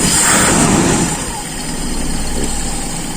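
A carbureted engine fitted with a size 60 pilot jet and a 105 main jet idles steadily and loudly, slightly fuller for the first second, with a person talking over it.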